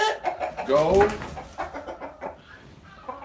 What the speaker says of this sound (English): Okay, seriously, roosters.